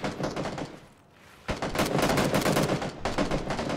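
Rapid gunfire crackles in a PUBG match, with dense bursts of shots, a short lull, then sustained peppering volleys at mid-distance.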